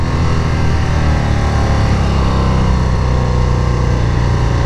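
A stock 2019 Harley-Davidson FXDR motorcycle engine runs loud and steady, a deep continuous rumble that holds without a clear rise or fall in pitch.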